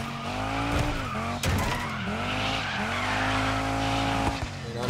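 Tires squeal continuously as a rally car drifts and slides through spirals in DIRT 5, engine droning loud and close throughout with a sharp jolt partway through.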